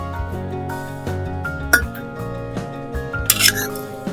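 Steel plates and spoons clink and clatter near the stove while hot rice is served for Konkani pithi bhat, with a few sharp ringing knocks among softer scrapes.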